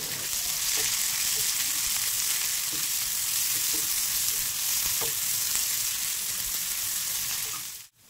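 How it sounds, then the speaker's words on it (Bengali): Chopped onions with a little salt frying in a pan: a close, even, continuous sizzle with occasional soft stirring scrapes, running unbroken until it cuts off at the very end, no voices. "পেঁয়াজটাকে লালচে করে ভেজে নেব, দিয়ে দিলাম একটু লবণ।"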